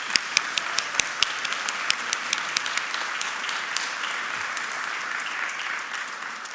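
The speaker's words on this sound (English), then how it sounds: "So this applause really belongs to Shirley" A concert audience applauds at an arts closing concert, dense sustained clapping with a few sharp, distinct claps standing out near the start, loud and close throughout.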